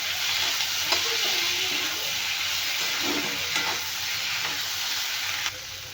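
Tomatoes and onion fry in ghee with a steady, broad sizzle throughout, broken by a few soft clinks and scrapes of stirring before the hiss drops slightly near the end.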